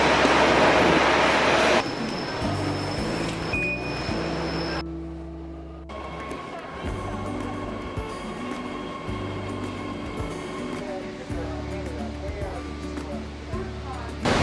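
Rumbling San Francisco subway train interior with steady low hum, rattling, and a brief quieter stretch before the motor drone resumes; a voice speaks over it.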